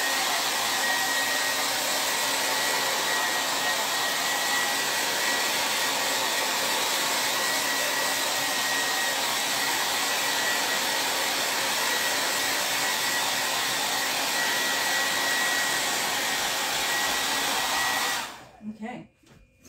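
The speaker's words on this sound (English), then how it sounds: "I'm going to blow dry a little bit more." A hair dryer blows steadily and loudly at close range over a t-shirt transfer for about eighteen seconds, with no talking, then cuts off abruptly near the end.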